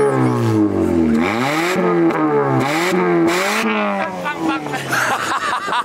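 Nissan car engine rated at 54 horsepower, revving loudly in repeated rising and falling sweeps, close and continuous, with brief voice sounds mixed in.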